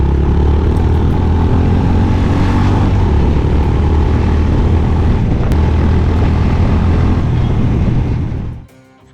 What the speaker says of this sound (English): the long-stroke engine of Highness CB350 creates the roaring thump